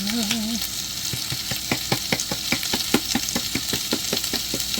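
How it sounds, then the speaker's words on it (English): Rapid crackling clicks and pops from a pepper grinder cracking peppercorns, repeated in an uneven rhythm over a steady sizzling background, with a brief voice at the start. "You hear the pepper cracking."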